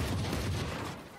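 Burst of rapid gunfire from the tactical shooter game Valorant during a professional match, fired near the boiler area; a dense, continuous volley of overlapping shots that stays loud throughout the short moment.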